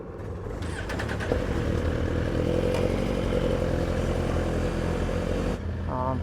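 A Suzuki GSX-R1000R with a 999cc inline-four starts up and runs at a steady, loud idle close by, with some mechanical clatter, then cuts off near the end.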